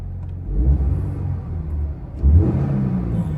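A Toyota GR86 Cup Car's naturally aspirated 2.4-litre FA24 flat-four boxer engine idles with a low rumble, then blips its revs twice in quick bursts, close and fairly loud, with no talk.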